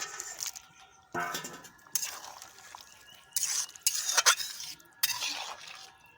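A wooden spoon or ladle stirs and scrapes through a potol curry with mustard paste and fried lentil dumplings in a pan, in several separate bursts with short quiet gaps between them.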